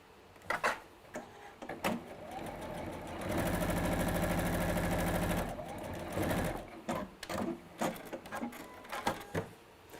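A sewing machine stitching fabric runs in a steady, loud mechanical whir for a few seconds, framed by clicks, handling knocks and fabric rustle before and after.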